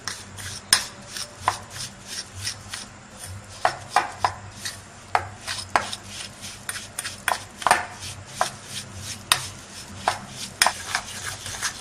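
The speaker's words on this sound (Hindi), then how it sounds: "अब अच्छी तरीके से हम इसको मिक्स कर लेंगे। आप चाहे तो इसको बीटर से भी बीट कर सकते हैं।" No-oven cupcake batter mixed by hand in a bowl, with steady rhythmic taps and scrapes of a spoon or whisk against the bowl, close and clear, without any talk.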